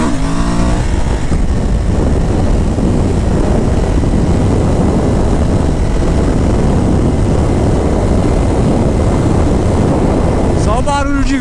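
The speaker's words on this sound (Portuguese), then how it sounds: "Só o barulho de vento." Loud, steady wind rush roars past a rider on a Suzuki V-Strom motorcycle at speed, a dense continuous buffeting noise, with a brief voice near the end.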